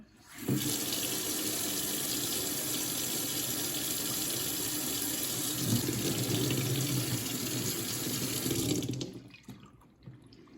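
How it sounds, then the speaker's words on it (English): Hot water pouring steadily from a tap into a sink to heat a broken Joby Gorillapod tripod leg, a continuous loud rushing that runs for about eight seconds before cutting off abruptly. "So just heat it up with hot water."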